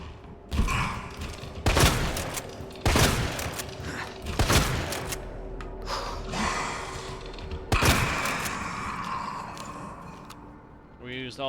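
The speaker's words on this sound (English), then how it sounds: "We used all our shotgun ammo to kill that thing." Heavy shotgun blasts in the survival horror game Resident Evil 2, several loud booming shots spaced a second or two apart, with game ambience and a player's voice talking between them.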